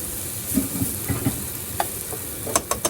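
Mole ingredients cook in a pan on a switched-off stove, a low lingering sizzle with a few light clicks and scrapes, then a cluster of brighter pops near the end, with no talk.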